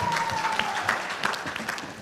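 An audience at a Christian quiz competition audition claps in a short, brisk burst, the applause filling the room over a faint steady tone.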